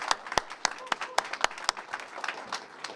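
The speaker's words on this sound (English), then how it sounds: "I'd like to give him another round of applause." Audience at a Lufthansa welcome press conference claps for the mayor, a short burst of scattered, uneven claps close by.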